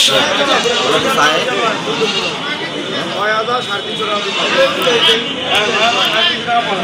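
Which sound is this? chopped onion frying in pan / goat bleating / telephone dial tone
goat bleating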